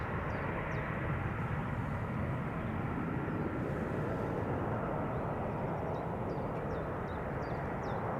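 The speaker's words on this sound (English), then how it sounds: "This A319 is 16 years old." An Airbus A319 airliner at Schiphol Airport gives a broad, steady jet roar that stays loud and constant throughout, without voices.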